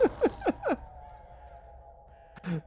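Caws from virtual birds in a haunted house video game: four harsh, descending calls in quick succession, followed by a quiet hum and a brief low thud near the end.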